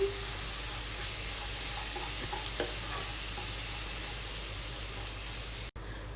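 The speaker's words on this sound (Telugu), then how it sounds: "1/2 టేబుల్ స్పూన్ గార్లిక్ పేస్ట్ వేసిన తర్వాత ఇలా ఒకసారి మళ్ళీ ఇది పచ్చివాసన పోయేంత వరకు ఫ్రై చేసుకోండి" Half a tablespoon of garlic paste frying in a pan, a steady soft sizzle with light stirring scrapes running throughout, fairly quiet and close, with no talking.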